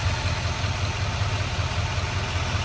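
A diesel 2020 Chevrolet Silverado with about 40,000 miles idles in a low, even rumble, steady and fairly quiet up close with no revving.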